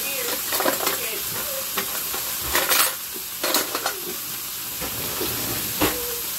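Steaks fry in a hot pan with a loud, crackling sizzle, bursts of spattering and scraping stir sounds rising and falling over a continuous hiss, close up.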